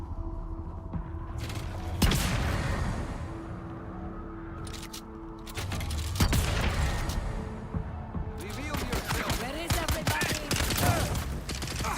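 Turret gunfire in Dune Awakening bursts in loud, repeated volleys over a droning mechanical hum, with short gaps between the bursts.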